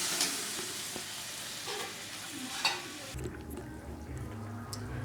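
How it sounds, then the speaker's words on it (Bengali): Water is poured into a pan of frying spice paste with kohlrabi and potato, giving a soft, steady sizzle and stirring scrapes, then a lower bubbling simmer after the water goes in. "এবার আমি পরিমাণ মতো জল দিয়ে দিচ্ছি।"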